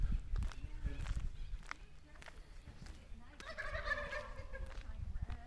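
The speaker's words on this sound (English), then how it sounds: "Oh, there are the turkeys." Wild turkeys gobble nearby in a warbling burst at a campground, with footsteps crunching and people talking faintly in the background.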